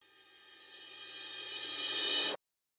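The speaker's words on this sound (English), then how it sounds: "But I want it to be a reverse cymbal." Reverse cymbal made by flipping a hi-hat cymbal sample in music production, a single swell rising steadily from faint to loud before cutting off abruptly, followed by silence.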